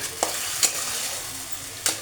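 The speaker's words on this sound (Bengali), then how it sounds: "মশলার মধ্যে আমি আলু কুমড়ো যেটা ভেজে রেখেছিলাম সেটা ঢেলে দিলাম" Fried potato and pumpkin go into spices in a frying pan, giving a soft steady sizzle with a few quick clinks and scrapes, close and fairly quiet.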